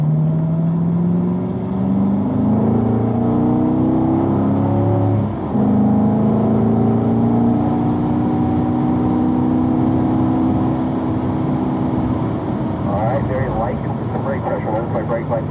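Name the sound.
car engine accelerating on race track after downshift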